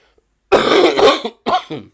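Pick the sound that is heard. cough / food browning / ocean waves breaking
cough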